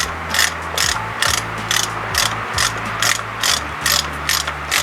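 A ratchet clicks steadily and close up while spark plugs are backed out of a 1969 Johnson Seahorse outboard motor, with rhythmic bursts of pawl ticking between short pauses.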